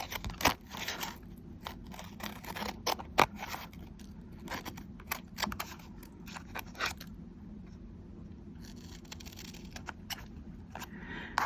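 Non-stick scissors snipping through paper or cardstock, a quiet close series of irregular crisp cuts and scrapes, fairly continuous with a short pause near the end, no talking.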